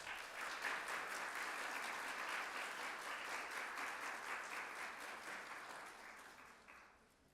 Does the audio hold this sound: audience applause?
yes